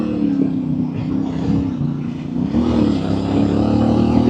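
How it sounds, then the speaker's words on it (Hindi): A CFMOTO 450MT Ibex adventure motorcycle engine rumbles steadily nearby, its pitch rising and dipping slightly as the throttle is worked, with no voices. "क्या साउंड है इसका, इस बाइक का ज़बरदस्त"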